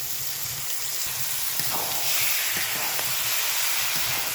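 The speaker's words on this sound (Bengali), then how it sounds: "এইভাবে ভালো করে চালটাকে কষে নেব" Soaked rice being stir-fried in spice paste for egg pulao, a dense steady hiss of frying with a few faint stirring knocks, no voices.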